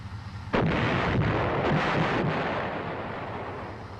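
Main gun of an M551 armored reconnaissance airborne assault vehicle firing on a range, one loud sharp blast followed by a long rumbling roll and wind buffeting on the microphone, with no voices.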